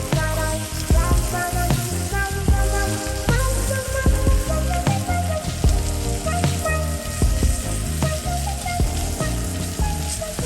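A thick chuck roast fries in butter with fresh herbs in a tilted pan, a loud, dense, continuous sizzle and crackle that holds steady throughout, with spattering pops and scraping as the butter is basted over the meat.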